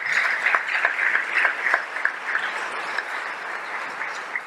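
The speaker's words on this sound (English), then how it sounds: "If you will give him a round of applause as he comes forward." An audience gives a steady round of applause for Dr. Jackson in a chapel, crisp clapping that holds fairly even and tapers slightly toward the end, with no talk over it.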